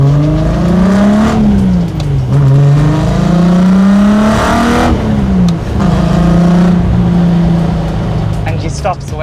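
Race-style engine note from a VW Golf Mk1 two-door with a swapped-in R32 engine, loud and close, revving up and down through several rising pulls with gear changes, a voice speaking briefly over the engine.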